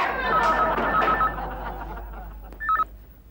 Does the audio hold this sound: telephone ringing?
yes